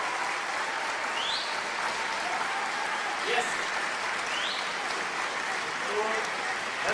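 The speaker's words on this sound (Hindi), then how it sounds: "जोरदार तालियों के बीच" Audience applause welcoming a speaker at an RCM business celebration, a large crowd clapping in a dense, even roar that holds steady throughout, with a few whistles cutting through.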